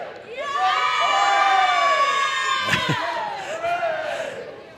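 Girls basketball team at a WIAA high school game giving a big cheer on cue, a loud sustained group shout of high voices rising together, with a brief clap or slam near the end.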